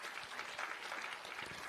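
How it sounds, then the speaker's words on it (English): Brief, faint applause from an audience at an Atomy promotion event, a soft even patter of many hands clapping for under two seconds. "We really need to give ourselves a round of applause."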